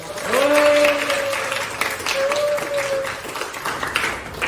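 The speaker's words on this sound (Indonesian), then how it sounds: "tepuk tangan buat kita semua" A class of students applauds in a classroom during a history lesson, a steady wash of clapping lasting several seconds with a voice speaking briefly over it.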